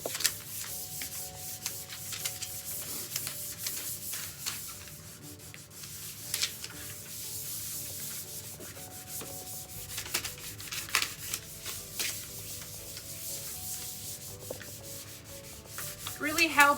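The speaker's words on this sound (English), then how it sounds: "So I cut a piece and I will go around and do this. And it's called burnishing." A furniture transfer is burnished onto a sign surface by hand, heard as a steady stream of close, scratchy rubbing strokes that continue throughout.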